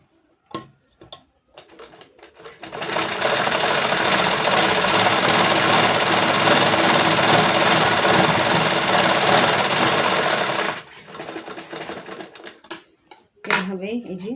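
A sewing machine runs a double seam along the side of a trouser leg, whirring loud and unbroken for about eight seconds between shorter bursts and pauses.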